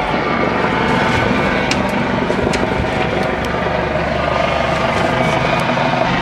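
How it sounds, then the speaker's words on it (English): A helicopter flies over a fishing boat at sea off Newport, Oregon, its rotor a loud, steady thudding roar that fills the whole stretch, blended with wind and engine rumble. "You fucking send a helicopter out here to check on us."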